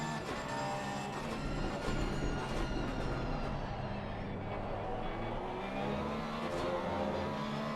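A Porsche race car in a racing video game exits turn 11 at Laguna Seca, its engine a dense, loud, continuous drone with rising and shifting tones as it accelerates, tyre and track noise blended in, no voice.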